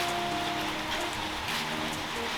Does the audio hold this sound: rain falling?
yes